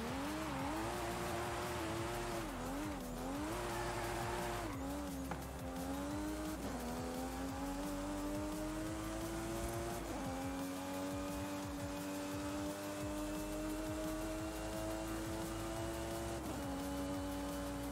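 Car drifting in the video game Forza Horizon 5: a sustained engine whine rises and dips as it slides, mixed with tire squeal and steady road noise, loud and unbroken for the whole stretch.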